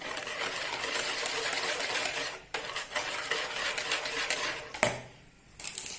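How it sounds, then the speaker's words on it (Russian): Quick, continuous clattering of a utensil whisking eggs in a bowl, with two short pauses, close and fairly loud. "яйца все перемешивайте до однородной массы"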